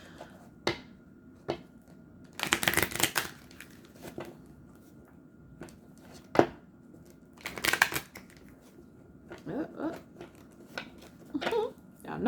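Bursts of cards being riffled and shuffled, a few quick flurries separated by softer handling clicks and taps, close up.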